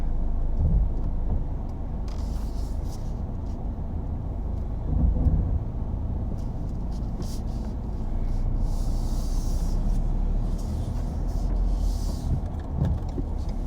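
A 2019 Ford Fusion drives with a steady low engine and road rumble from inside the cabin, continuous and fairly loud with faint rattles and ticks, no talk.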